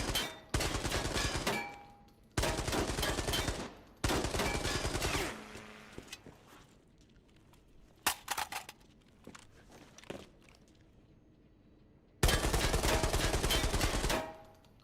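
Video game gunfire from a low-recoil gun, heard as four long, rapid, sustained bursts of loud automatic fire, the last after a quieter stretch of scattered clicks and small noises.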